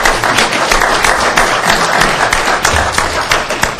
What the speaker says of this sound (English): I think you deserve a round of applause for taking the time to do this.